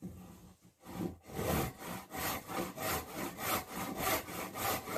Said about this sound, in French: on apprend, on a l'habitude de scier droit